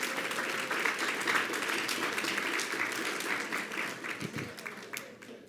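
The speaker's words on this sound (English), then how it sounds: "how about a round of applause for our next group of students who enter the room?" A room full of people applauds steadily as a group of students walks in at a school district board meeting, the clapping dense and sustained before thinning out near the end.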